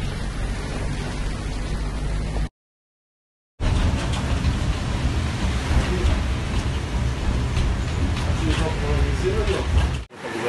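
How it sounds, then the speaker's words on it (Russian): Heavy downpour over Odessa, a dense steady rush of rain close by, broken once by a second-long silent gap before resuming at full strength. "насколько сильно идет ливень в Одессе"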